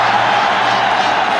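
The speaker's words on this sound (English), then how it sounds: "It's enough to get the crowd roaring." Stadium crowd roaring at a Pakistan versus India cricket match at the 1999 Sharjah Cup, a dense, steady wash of cheering voices filling the whole stretch without a break.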